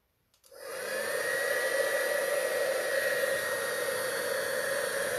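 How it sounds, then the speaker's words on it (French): A heat gun clicks on and quickly rises to a steady, loud, close whooshing roar as it warms embossing powder, holding constant without talk. "je vais prendre donc mon pistolet chauffant. Et je vais aller chauffer ma poudre"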